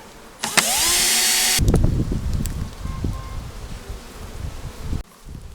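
A loud buzzing burst cuts off abruptly, followed by a lower, continuous hum of honey bees with faint rustling, after the bees are transported in frames.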